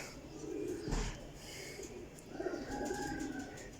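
Teddy Salara pigeons coo in a loft, soft low murmuring calls repeating across the moment with a brief flutter or thump near the start, close and moderately quiet.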